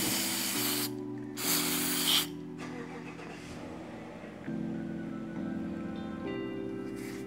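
Short hissing bursts of aerosol cleaner sprayed from a can onto a Honda Civic part, two loud blasts near the start over a steady idling engine hum, with fainter spray later.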